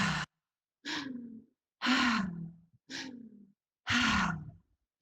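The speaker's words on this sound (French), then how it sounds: "continue la respiration, mais avec la bouche ouverte" Five long, open-mouthed exhalations during a guided relaxation breathing exercise, each a soft, breathy rush that trails off into a low vocal sigh, separated by short silent pauses, close and clear.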